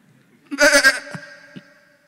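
A preacher mimics a mother goat with a single throaty, wavering bleat of about half a second, followed by a few faint vocal clicks and breaths.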